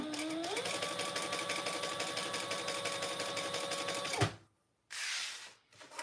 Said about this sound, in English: I'm just going to do some batch chain stitching here.